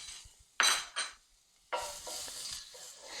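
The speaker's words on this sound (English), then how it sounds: "Put in the chopped garlic." Chopped garlic dropped into a very hot pan, sizzling loudly in oil, with a couple of sharp utensil scrapes and clinks before a steady hiss takes over, close by with no talking.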